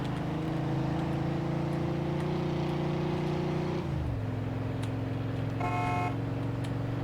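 Car engine droning steadily while driving in the video game Mafia 2, holding a loud, even hum before the pitch drops sharply around the midpoint, then settling into a lower steady rumble with a brief electronic tone near the end.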